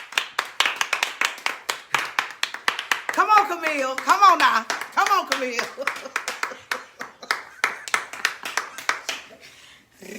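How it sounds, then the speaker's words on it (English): An audience claps in a steady, even rhythm at a talk event honoring Camille Cosby, the beat continuing under a voice urging someone on. The voice briefly rises into a sung phrase partway through. "Y'all clap for her now. Clap."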